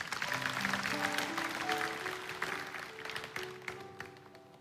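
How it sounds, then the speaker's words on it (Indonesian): A church congregation applauds in a steady, dense wash of clapping over sustained keyboard chords, slowly thinning and fading toward the end. "Berikan tepuk tangan bagi Tuhan ya."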